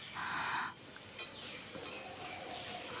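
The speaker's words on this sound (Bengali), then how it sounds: "আমি আরেকটু ভেজে নিচ্ছি" Spiny gourd (kakrol) being fried and stirred in a pan until dry, a quiet continuous sizzle with a short scraping stir at the start and a faint clink, close by with no talking.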